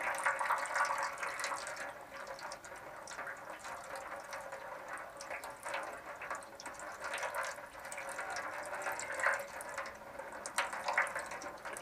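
Water draining from a truck's air tanks, a steady hissing, spattering flow with faint mechanical ticks and rattles, fairly quiet and continuous with no talk.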